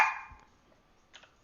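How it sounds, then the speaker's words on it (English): A small Chihuahua gives a single sharp, loud bark right at the start, then a fainter yip follows about a second later, with quiet in between. "that's my Chihuahua"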